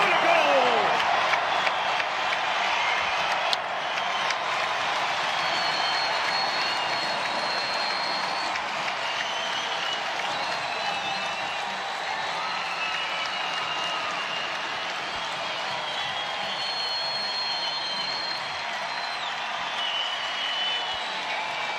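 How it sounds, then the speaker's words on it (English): Crowd at a Tampa Bay Rowdies versus Pittsburgh Riverhounds soccer match cheers and applauds after a goal, a sustained, distant stadium roar with scattered whistles and clapping, under occasional commentary. "Listen to this crowd. They're loving it right now."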